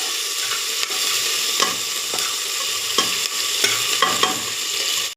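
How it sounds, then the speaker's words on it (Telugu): Onions with chilli and salt fry in a pan with a continuous bright sizzle, punctuated by several soft scraping stirs of a spoon, close and steady with no talking. "కొంచెం ఈ ఉల్లిపాయలు గోల్డెన్ బ్రౌన్ వచ్చే వరకు వేయించుకోవాలి"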